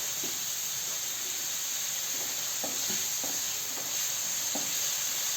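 Zucchini and onion frying in oil in a pan over low heat, a steady soft sizzle with a few light clicks of stirring, no talk.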